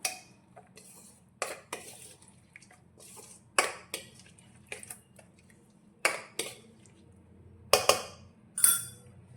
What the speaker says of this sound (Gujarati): એ બધી જ વસ્તુને પહેલાં સારી રીતે મિક્સ કરી લઈશું